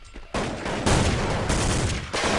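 Dense gunfire from a competitive video game match, Counter-Strike style, plays as a sustained loud burst of overlapping shots across a couple of seconds, under no clear talk.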